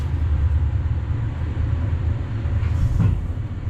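Steady low rumble of a brand-new Polish 176A-10 passenger wagon in motion, heard from inside, with continuous running noise, a faint rattle and a brief squeal near the end.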